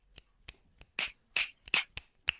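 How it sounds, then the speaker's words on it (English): Finger snaps given in place of applause by podcast hosts; about nine close, crisp snaps in an uneven rhythm, some sharper and brighter than others, with no talk over them. "Snaps. We get snaps."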